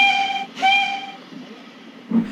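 A steam engine whistle sounds twice in close succession, a bright multi-tone blast cut by a short gap, then fades as a low rumble and brief puff follow.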